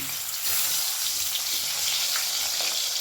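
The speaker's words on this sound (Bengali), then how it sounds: "মাছ ভাজার এই তেলের মধ্যে আমি এখন কাঁচকলাগুলো ভেজে নিচ্ছি" Green banana pieces fry in hot oil already used for frying rohu fish, giving a steady, close hiss and sizzle that stays constant throughout.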